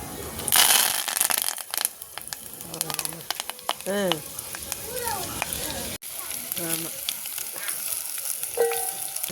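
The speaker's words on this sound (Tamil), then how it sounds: "இப்போ காஞ்ச மிளகா போடுறேன்." Dried red chillies dropped into hot oil with mustard seeds and urad dal for a tempering; quiet crackling sizzle with a stirring spoon, while someone talks over it in Tamil.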